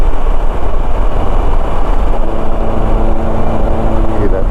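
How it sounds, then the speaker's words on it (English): A Can-Am Spyder three-wheeler rolls over a vibrating rumble-strip road surface, giving a loud, steady low rumble and road roar, with a buzzing harmonic drone rising through the second half. "Hear that noise? That's a big vibration noise. It's meant to vibrate your car, your bike, your whatever, and wake you up."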